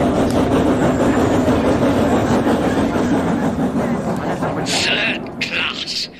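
A train rumbles along steadily in an audio drama, a dense loud roar of rolling wheels that fades slightly, with voices coming in toward the end.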